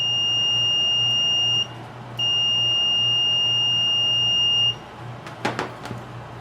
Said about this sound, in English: then we'll have continuity, which will just give us our tone